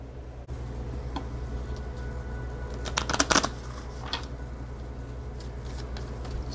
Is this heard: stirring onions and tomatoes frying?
no